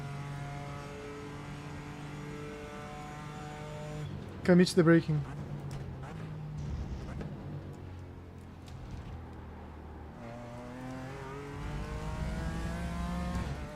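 A BMW M4 GT4 race car engine in the iRacing video game drones and revs in steady tones at Road America, shifting pitch as it accelerates, with someone talking over it.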